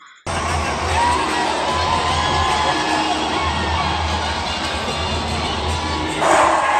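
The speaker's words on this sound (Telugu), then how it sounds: "ఈలలు కేకలు స్టేడియం మొత్తం దద్దరిల్లిపోయిందని చెప్పవచ్చు" Dense stadium crowd at an SRH cricket match at Uppal Stadium roars continuously, cheering, whistling and shouting at steady loudness throughout, with a brief louder swell near the end.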